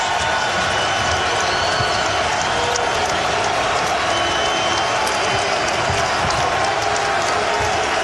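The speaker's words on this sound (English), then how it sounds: "The crowd inside the Bradley Center on their feet." Home crowd inside the Bradley Center at a Marquette men's college basketball game against West Virginia, on its feet cheering and applauding in a continuous loud roar that holds steady throughout.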